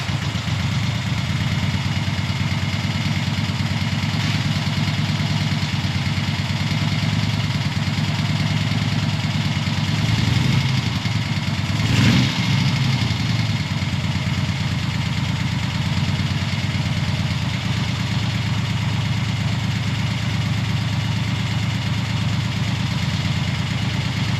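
A warm engine idles steadily after its carburettors were balanced, a constant even thrum held at close range for over twenty seconds, with a faint brief clatter midway and no voices.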